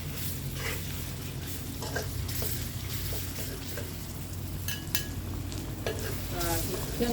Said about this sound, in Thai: ใส่ไก่ลงไปผัดได้เลยค่ะ